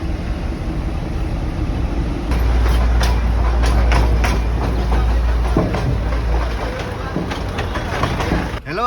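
The Darjeeling toy train runs slowly on its rails, loud rhythmic clicking and rumbling of the wagons with a strong low engine drone in the middle, and voices faintly under it.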